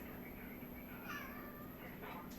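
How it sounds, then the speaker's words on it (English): A cat gives a couple of soft, faint meows in a quiet indoor room over a steady electrical hum, with a person talking nearby. "See pretty cats?"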